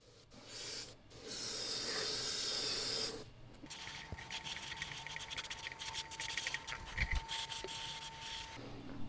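A heat gun blows a steady, loud hiss while heat-setting bone-colored paint on a custom crankbait, running strong for about three seconds, then a thinner, lighter airy rush continues with small clicks and handling noises.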